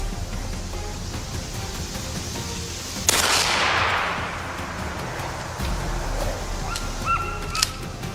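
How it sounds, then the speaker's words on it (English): A gunshot during a wild boar hunt on grassland rings out as one sharp loud crack that fades through a long trailing echo over outdoor ambience, with faint birdcalls afterward. "The second shot rang out."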